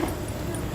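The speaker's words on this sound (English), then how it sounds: "Next up, we have Buzzy, a female mini Jindo mix who's 10 months old and 11 pounds" A female mini Jindo mix puppy, ten months old and eleven pounds, whimpers softly in a brief, thin whine close by, with no talking over it.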